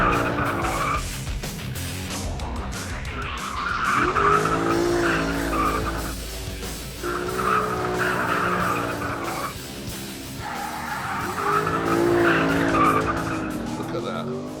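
A Lexus GS F drifts with its electronic safety aids switched off, tyres squealing loudly and steadily under a roaring engine that rises and falls through repeated slides, with a voice talking over it.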